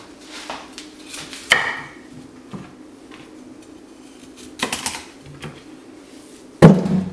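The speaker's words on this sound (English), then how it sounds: "First thing you got to do is chop the broccoli." A kitchen knife chops fresh broccoli on a cutting board: a few sparse, sharp chops at irregular intervals, fairly close and clear against a quiet room hum, with no one talking.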